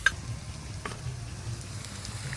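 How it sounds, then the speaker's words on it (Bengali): Onion and garlic frying in a pan in a home kitchen, giving a soft, steady sizzle with faint crackles and a low background hum. "এদিকে পেঁয়াজ আর রসুন ভাজা হতে হতে"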